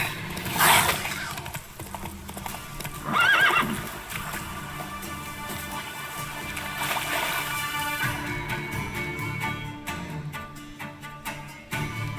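A horse in The Witcher 3 whinnies twice over a rough galloping clatter of hooves, with game ambience and splashing texture running underneath.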